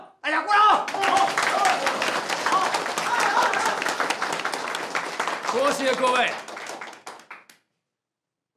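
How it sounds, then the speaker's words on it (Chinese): A room of people at a Chengdu chamber of commerce gathering breaks into brisk, lively applause for a newly elected vice-president, the clapping sustained for several seconds under a voice speaking, then stopping abruptly. "大家鼓掌"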